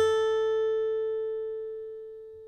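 A guitar string sounding A4 rings together with a 440 Hz sine wave, the plucked note's bright overtones decaying slowly over the steady pure tone, loud and without any talk.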